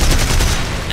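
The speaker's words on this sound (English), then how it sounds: "It's got two 20mm cannons, and 4 30 cal machine guns." A Bf 110 in War Thunder fires its two 20mm cannons and four .30 cal machine guns in a loud, close, continuous burst of rapid gunfire lasting under a second.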